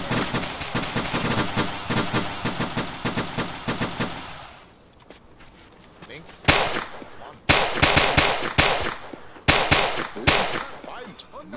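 Sustained automatic gunfire from the WWII shooter Iron Front on the Eastern Front, a dense rattling burst for about four seconds, then a lull and several sharp, loud single shots and short bursts spaced a second or two apart.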